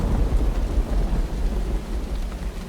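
A thunderstorm in the video game URU: Complete Chronicles: a low, continuous rumble of thunder mixed with dense rainfall, heavy and steady throughout with no voices.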